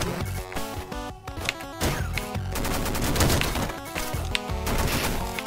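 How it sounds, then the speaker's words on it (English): Rapid machine gun fire in the Downwell video game, a dense stream of sharp shots layered over busy game music and effects, loud and continuous throughout. "And machine gun."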